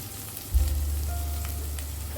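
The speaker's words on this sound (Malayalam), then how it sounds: "നമ്മുടെ ഉള്ളി അങ്ങനെ വാടി വന്നിട്ടുണ്ട്." Onions soften in a pan while being sautéed for kadala curry, giving a steady low sizzle with a heavier frying burst after the start, close up and without any talking.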